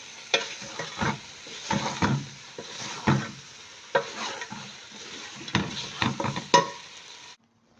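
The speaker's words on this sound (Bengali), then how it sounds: "এই যে চিকেনগুলো ফ্রাই করে রেখেছি, এটা এখন এখানে দিয়ে দিব। ভালো করে মিক্স করবে মশলার সাথে প্রথমে।" Fried chicken is stirred into spices in a pot. Rhythmic scraping strokes about once a second ride over a continuous close sizzle and hiss of frying, and then the sound cuts off.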